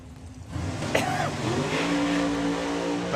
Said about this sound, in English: let's see if Jordan's tyres will hook up this time